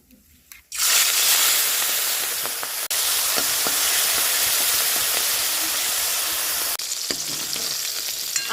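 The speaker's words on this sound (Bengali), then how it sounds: "এবার আমি প্রথমে চিংড়ি মাছটা আমি ভেজে নিব।" Prawns fry in hot oil in a pan with a loud, dense, steady sizzle and hiss that starts abruptly and continues for several seconds, with a short break midway and no talking over it.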